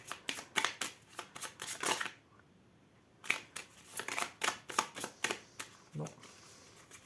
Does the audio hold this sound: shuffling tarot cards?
yes